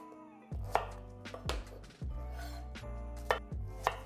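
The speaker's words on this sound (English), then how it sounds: "you cut the sprouts, you trim them in half." A knife slices Brussels sprouts in half on a wooden board, about half a dozen firm chops with a low thud and a crisp crunch at each stroke, close and moderately loud, spaced roughly half a second to a second apart, no voices.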